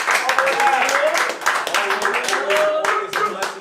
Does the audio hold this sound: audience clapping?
yes